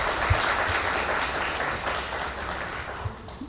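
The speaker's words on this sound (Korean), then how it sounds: "문헌일 구청장님께 다시 한번 큰 박수" An audience claps steadily for the district mayor of Guro at a social welfare forum, a moderate, even patter of many hands with a couple of soft thumps.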